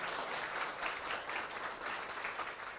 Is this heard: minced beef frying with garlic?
no